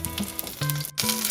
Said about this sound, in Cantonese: 我哋而家就可以反轉隻茄子煎埋另一邊